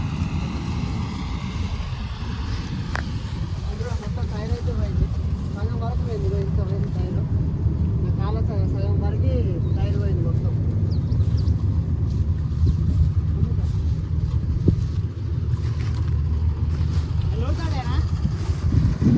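A John Deere Gear Pro tractor strains to pull a stuck, loaded cart, its low engine rumble droning steadily and loudly while people talk over it.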